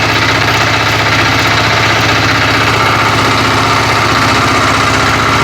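A walk-behind tractor (motoblock) engine runs steadily in first gear, loud and close, with a constant low chugging rumble and knocking vibration and no pauses.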